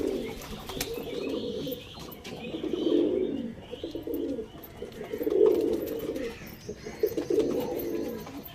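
Kalanka pigeons kept at home coo in several rounded, throaty bursts spaced a second or two apart, close and moderately loud, with faint chirps between.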